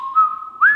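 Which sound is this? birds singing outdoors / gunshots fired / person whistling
person whistling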